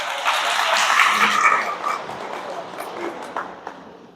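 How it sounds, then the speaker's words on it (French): A church congregation claps during a Palm Sunday Mass, with a burst of applause swelling in the first second and a half before thinning out and fading, the scattered claps trailing off with faint voices mixed in. "Mais il faut vous applaudir si c'est vrai."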